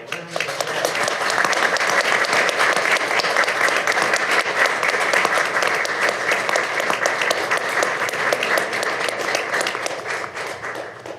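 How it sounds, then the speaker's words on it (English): Sustained applause in a city council chamber for two young wrestlers, many hands clapping at an even, loud level from start to finish with little else heard. "Join me in giving these two young men a round of applause."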